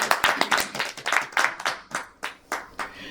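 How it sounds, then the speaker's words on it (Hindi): Clapping for the poet Dr. Geetika Chaturvedi at a Holi poetry gathering: a small group claps in distinct, fairly sparse bursts that thin out toward the end, close and clear with no talk over it. "एक बार उनके लिए जोरदार तालियां।"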